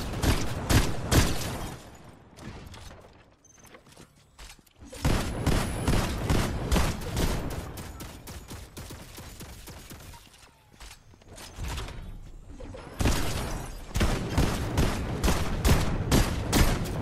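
Bursts of rapid turret gunfire in a video game come in loud clusters separated by short quieter gaps, with busy battle noise throughout and no clear talk.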